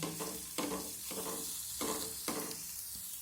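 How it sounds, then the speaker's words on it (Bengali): Green chillies, onion, ginger and garlic stir-frying in a pan, a close sizzling hiss with a few evenly spaced scraping strokes of the spatula. "সব কিছু আবারও আমি মিনিট দেকের মতো নেড়ে চেড়ে ভেজে নেব"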